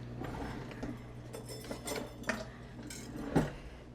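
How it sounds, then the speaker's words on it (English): A utensil stirs a cinnamon baking mixture in a bowl, giving soft scraping and occasional light clinks against the bowl, faint and close, with one sharper knock near the end. "We're gonna give this a good stir."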